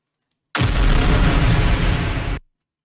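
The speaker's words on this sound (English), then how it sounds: "I'll just take another explosion sample that we recorded." A recorded explosion sample used for sound design bursts in abruptly as a loud, dense, full-spectrum blast. It holds a heavy roar for almost two seconds before cutting off sharply, with silence before and after.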